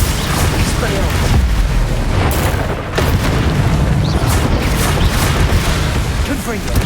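Spell explosions and booming blasts from the Hogwarts Legacy video game, a dense, continuous roar of loud rumbling bursts and crackles with no break throughout.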